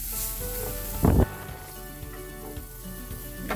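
Burgers with onions and mushrooms sizzle steadily in a pan on high heat, a continuous close frying hiss with one brief louder crackle.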